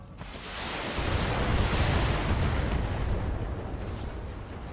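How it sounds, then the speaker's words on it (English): Ammo explosions in the mech combat video game Battletech, a deep, rolling blast that starts with a thump, swells into a loud roaring rumble and slowly fades, heard alone. "Lots of ammo explosions."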